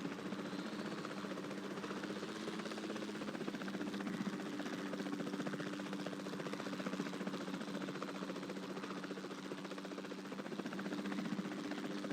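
Helicopter in Jurassic World Evolution 2, a constant mid-pitched rotor and engine drone humming steadily and fairly close, unbroken throughout with no voices.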